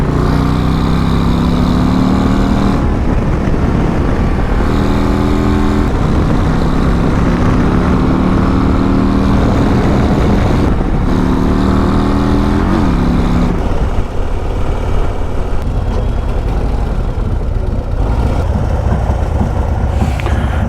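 A Harley-Davidson motorcycle cruising on a winding highway produces a steady, loud engine drone with wind rush, shifting in pitch as it climbs through gears, with no talking.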